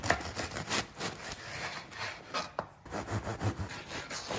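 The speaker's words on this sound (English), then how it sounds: "Get a good bread knife so you're not squishing your loaf of bread as you cut" A bread knife saws through a loaf of French bread in a quick series of rough, raspy strokes that sound close and fairly soft.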